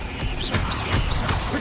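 Incendio fire spell cast in Hogwarts Legacy, a dense, continuous burst of crackling, whooshing magic effects with short sweeping tones, loud and close amid busy game audio.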